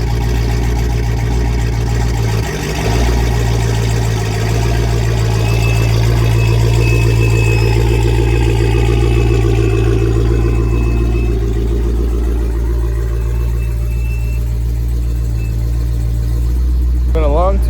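A Dodge Hellcat 300 runs steadily after a rough start following two weeks of sitting, its loud, deep engine rumbling close by at a sustained idle with a brief dip near the beginning.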